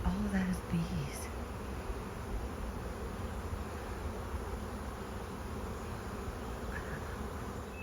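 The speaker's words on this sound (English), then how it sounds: "all of that is bees" A dense, continuous hum of a honey bee swarm buzzing together, steady and fairly close, with a few individual bees whining past early on.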